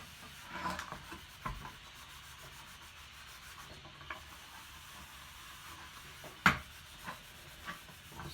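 Four-aught steel wool rubs over a plastic C10 instrument cluster lens in soft, faint scrubbing strokes, with occasional sharper scratches and light knocks, and no talking.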